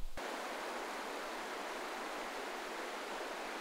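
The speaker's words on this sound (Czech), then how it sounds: "Zavedla jsem vás na jedno z nejoblíbenějších míst, řeka Opava a její splav." Water pours steadily over a weir on the Opava river in the village of Zátor, a dense, even rushing roar that fills the clip from start to finish after a brief opening knock.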